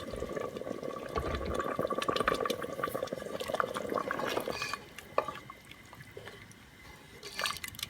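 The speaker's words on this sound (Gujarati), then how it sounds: "હવે આપણે નાખી દઈશું આપણું પાણી એની અંદર" Water pours into a pot of meat and potato curry, a continuous gurgling splash for several seconds that then tapers into quieter trickles and a few drips.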